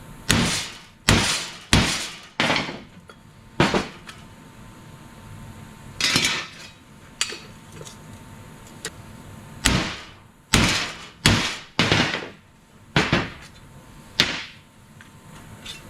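A small piece of pipe struck hard on top of a custom handbuilt car decklid, a series of loud, sharp metallic whacks, some single and some in quick pairs, close up with quiet pauses between and no talking.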